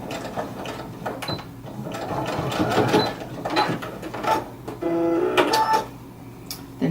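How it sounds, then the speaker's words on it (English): A sewing machine tacks a fabric corner, its needle whirring in quick short bursts with brief pauses and clicks between runs, close and moderately loud, with no talking. "really quick just tack it on the machine"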